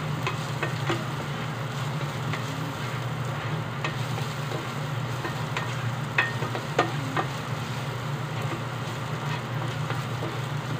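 Onions frying in a pan for a sardine dish, a steady close sizzle with occasional crackles and light stirring scrapes over a low kitchen hum, no talking.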